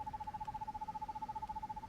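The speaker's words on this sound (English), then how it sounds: "Oh, it's a bird." An owl hoots in the video game Perception, a steady low tone repeating in a soft rhythmic pulse over faint background ambience, no speech.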